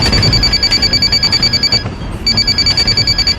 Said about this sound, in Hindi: थोड़ी देर में मेरा फोन बजा।